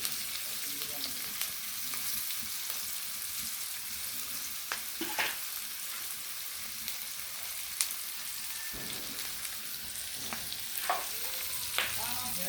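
Spices and cumin leaves sizzle and fry in a pan while being stirred, a steady close crackle with occasional scraping stirs and clinks throughout.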